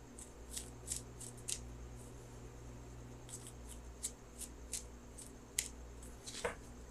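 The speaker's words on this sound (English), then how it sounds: "So I'm going to shuffle for that outcome card." Tarot cards shuffled close and quietly, a series of short crisp riffling bursts repeating at an irregular rhythm over a low steady room hum.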